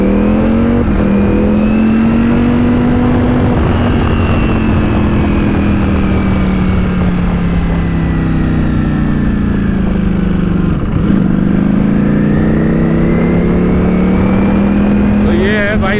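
A Ducati V4S and a BMW S1000RR superbike ride together on a road near Siliguri, their engines droning loud and close without a break, with pitch rising and falling as they rev and shift.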